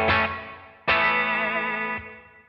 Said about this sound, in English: I love the sound of a plate reverb